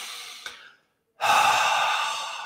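A deep breath during a relaxation breathing exercise: an airy exhale tails off into a moment of silence, then a long, close, steady inhale.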